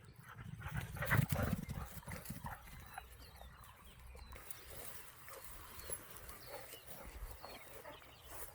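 A working dog moves about on a farm, with a faint whimper and rustling, scuffing movement, louder early on, then a steady outdoor background of low rumble and shuffling.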